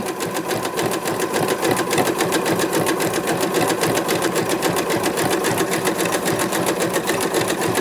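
A sewing machine hums and chatters steadily at close range while stitching a Christmas journal cover, its needle clatter running without pause and no talking over it.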